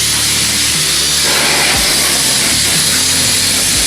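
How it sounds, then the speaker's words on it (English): Welding a roll cage main hoop: a steady, loud hiss and crackle of the welder runs throughout with a low background hum, close and constant, with no talking. "That's welder."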